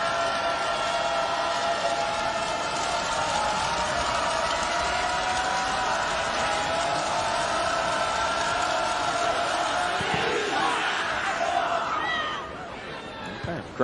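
Stadium crowd at a college soccer match between Georgetown and Washington, a broad, steady roar of supporters with sustained chanting, loud and continuous before dropping off near the end.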